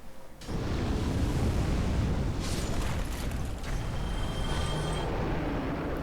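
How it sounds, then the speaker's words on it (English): A dragon in the Dark Souls video game breathes fire in a sudden, loud roaring blast that kicks in almost at once and keeps rumbling steadily for several seconds, alone without speech. "Okay, breathe your glorious fire."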